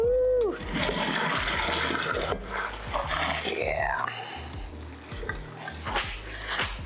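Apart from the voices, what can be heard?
straining cooked macaroni, draining water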